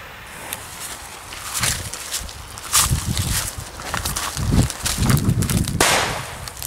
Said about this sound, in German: Und der Knall war wirklich top.